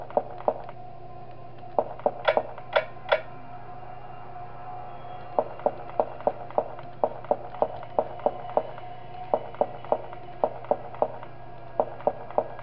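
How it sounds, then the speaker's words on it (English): Character footsteps from the horror video game Five Nights at Wario's: Cabin Fever thud in irregular runs of sharp steps, a few louder and brighter hits early on, over a low steady hum. "The deep footsteps is Wario."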